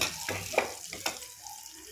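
Food frying in hot oil, soft sizzling with a few sharp crackles and pops early on, then a quieter hiss; faint and close, with no talk.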